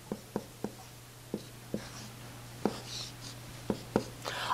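Pen strokes drawing a chemical structure diagram, a series of about a dozen short distinct taps and scratches at uneven intervals, close and quiet over a low steady hum.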